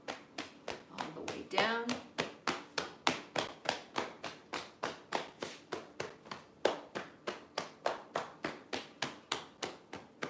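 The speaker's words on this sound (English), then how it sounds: "Tap the part of your kidneys gently." Hands tap the lower back over the kidneys during a tai chi routine: a long, steady series of soft, evenly spaced pats, close and clear, with a brief spoken phrase near the start.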